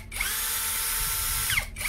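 A Toyoko 16.8V brushless cordless drill runs steadily with a high motor whine, briefly spinning down and up near the end, close and loud with no talk.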